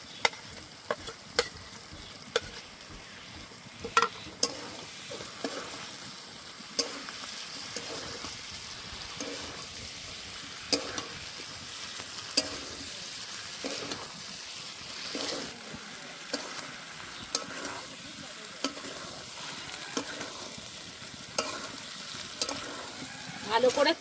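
Fried prawns stirred into a simmering jackfruit curry in a pan, with a continuous soft sizzle and regular scraping, tapping stirs repeating throughout.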